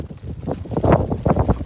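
Strong wind buffeting an exposed Alpine mountainside at about 1900 metres in falling snow near freezing, a rough, continuous roar with gusty swells and rumbling microphone buffeting, no voices.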